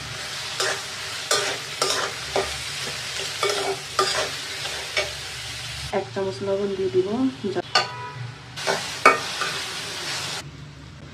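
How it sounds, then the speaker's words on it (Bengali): Chopped onion and chilli fry in leftover fish oil in a pan, a steady sizzle broken by repeated scrapes and stirs of a spoon, with a short remark spoken over the cooking. "এখন আমি পেঁয়াজ, মরিচ কুচি ভেজে দিব"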